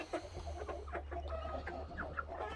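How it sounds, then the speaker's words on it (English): Hens clucking softly in a backyard coop, several short, irregular clucks and chirps close by over a steady low hum, with no talking. "That's a hen there."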